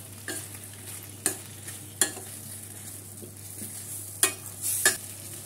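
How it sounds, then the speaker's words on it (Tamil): Capsicum, coriander and curry leaves being stirred and sautéed in a pan for green chutney, a steady soft sizzle broken by several distinct scraping stirs of a spatula, close and clear with no voices. "இந்த மாதிரி நல்லா வதக்கி எடுத்துக்கோங்க."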